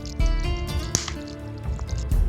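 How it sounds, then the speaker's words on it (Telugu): Coconut water splashes and gurgles as it is poured into a blender jar already holding sapota and dates for juice, a close, steady liquid pour with small drips and sloshes. "ఇందులోనే కొబ్బరి నీళ్ళు వేస్తున్నాను"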